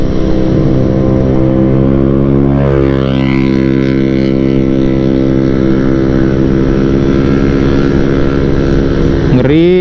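A loud motorbike engine running close by on a street in Batam after rain, a steady harmonic drone that dips and swells in pitch around the middle, with a second engine revving up sharply at the end.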